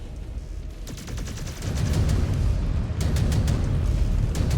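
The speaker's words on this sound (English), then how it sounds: "The reactor's going to blow!" A mech's reactor blows in the video game MechWarrior 5: Clans, a loud sustained rumbling roar that swells partway through and is punctuated by sharp crackling bursts.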